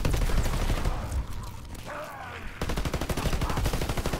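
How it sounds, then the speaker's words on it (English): Rapid, unbroken gunfire fills a video game where the weapon has unlimited ammo. The dense automatic shots are loud and close, break briefly, then resume at the same relentless rhythm. "Why am I shooting forever?"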